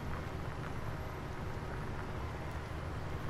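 Steady, loud tractor engine drone from Farming Simulator 17 as the machine ploughs a field, a continuous rumble with no breaks and no voices.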